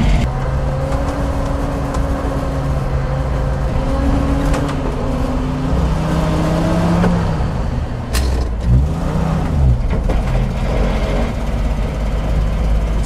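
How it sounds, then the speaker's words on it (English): Volvo TP 21 military radio vehicle with its original side valve engine drives along, a steady, fairly loud engine drone with shifting pitch as it changes speed, no talking. "Fantastic vehicle to drive, and I love this original side valve engine."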